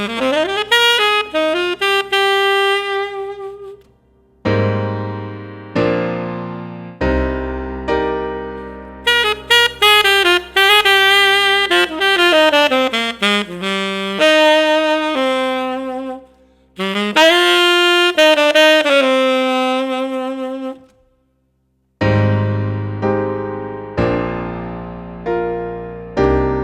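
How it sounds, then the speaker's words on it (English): A solo saxophone plays minor scale runs and melodic phrases, smooth and close with short pauses between passages, loud and alone with no talking. "So let me just play that on saxophone for you."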